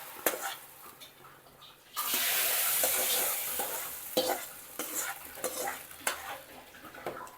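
Onion tempering poured into a country chicken curry, a sudden loud burst of sizzling that holds for about two seconds, followed by lighter frying crackle and clinks of a ladle against the pot.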